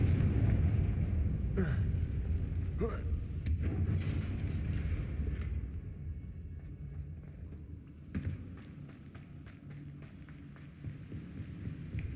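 A Confringo spell explosion in Hogwarts Legacy, a loud, deep, rumbling blast over sustained low game ambience, followed by a quieter stretch with scattered sharp clicks and impacts.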